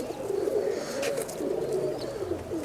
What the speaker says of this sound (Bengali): এগুলো রাজশাহী লোকাল গিরিবাজ কবুতর